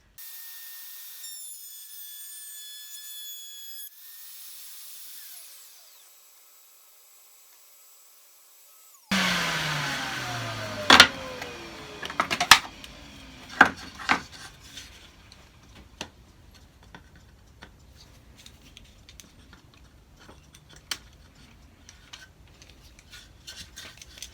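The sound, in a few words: sawing wood pieces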